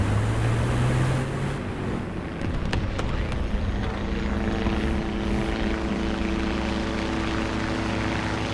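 Propeller aircraft engine drones steadily in War Thunder at Hürtgen Forest, a loud continuous hum with a low tone that shifts pitch and gains harmonics as the plane nears, with broadband rumble throughout.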